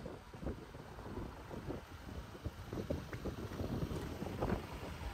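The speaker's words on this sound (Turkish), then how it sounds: "Deniz dalgalı, rüzgar var." A large ferry (Seatran) crossing a choppy sea in wind, heard as a steady broadband rush of wind buffeting and water wash with irregular gusts, moderately loud and continuous throughout, with no voices.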